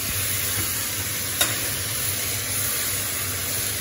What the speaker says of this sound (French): Donc là, on va déglacer tout le goût qui a été pris.